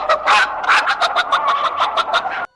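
A man in a Mexican horror film squawks and clucks in imitation of a chicken, a loud, close series of jerky cackling calls in quick bursts that cut off abruptly.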